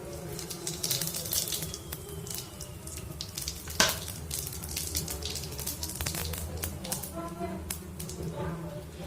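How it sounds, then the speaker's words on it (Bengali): Whole cumin seeds sizzle in hot oil for a Bengali fish curry, a steady bright frying hiss scattered with small pops and crackles and one sharper clatter, while a person talks over it. "এবার আমি এই তেলটায় গোটা জিরে ফোড়ন দিয়ে দিই।"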